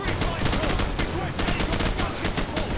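Rapid bursts of gunfire crackle in Call of Duty 4: Modern Warfare, dense and repeated over a few seconds, with a voice briefly heard underneath.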